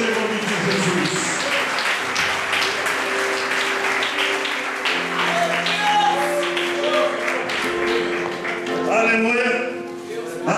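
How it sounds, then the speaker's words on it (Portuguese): A church congregation at a Pentecostal youth congress service claps loudly and steadily in praise, while a voice speaks or sings over the dense applause and a sustained tonal backing runs beneath. "E a igreja concorda, aplauda ao Senhor nesta noite em nome de Jesus"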